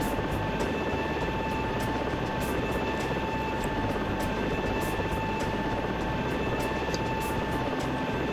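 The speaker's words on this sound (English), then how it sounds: "Now let's let the helicopter stabilize while I hoist this guy back up." A rescue helicopter hovers in the Search and Rescue 4 video game, its engine and rotor making a loud, steady drone with a high whine that runs the whole time without a break.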